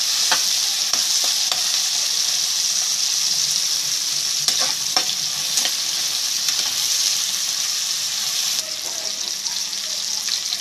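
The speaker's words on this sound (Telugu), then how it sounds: "టమాటాలు, గ్రీన్ క్యాప్సికమ్, పచ్చిమిరపకాయ అన్నీ కూడా నూనెలో శుభ్రంగా మగ్గిపోవాలి." Tomatoes, green capsicum and green chillies frying in oil in a pan, a steady close sizzle throughout with scattered spoon scrapes and clicks as they are stirred, no voices over it.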